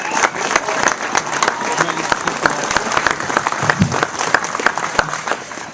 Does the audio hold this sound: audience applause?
yes